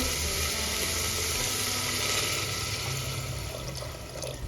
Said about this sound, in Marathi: इथे मी एक ग्लास पाणी ॲड करून घेतलं